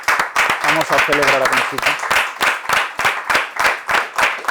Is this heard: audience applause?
yes